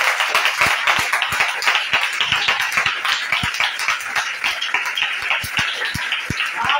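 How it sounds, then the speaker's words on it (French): A church congregation at an evangelistic revival service claps to acclaim the Lord Jesus, giving steady, fairly quick rhythmic hand claps that continue throughout without voices. "On acclame le Seigneur Jésus."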